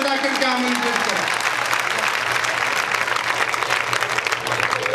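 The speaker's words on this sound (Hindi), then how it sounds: "एक बार भाई राम अकेला के सम्मान में जोरदार तालियां बजा करके आमंत्रित करें।" A large audience at a Hindi kavi sammelan gives a poet loud, sustained applause as he is invited to the stage, a dense wash of clapping with a voice heard at the start.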